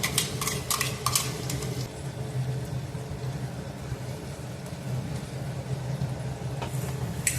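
Rajma in tomato gravy stirred in a pot, with a cluster of metallic spoon clinks and scrapes at first, then a steady low simmering rumble with occasional soft taps, close and without talk.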